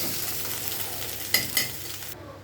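Close, continuous hiss of an egg frying in oil inside a wok for a bottle gourd egg dish, with two quick spatula scrapes before the sizzle suddenly dulls at the end.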